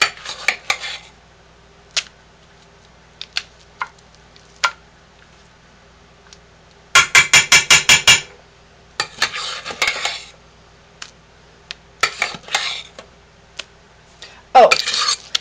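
Homemade soap being scraped out of a metal pot with a utensil, giving sharp clinking scrapes and a rapid burst of rattling strokes between quieter pauses, close and alone.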